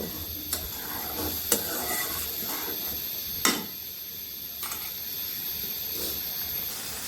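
Coriander and cumin sizzle in a pan while being sautéed for a hilsa curry, a soft continuous frying hiss broken by a few sharp crackles and utensil clicks.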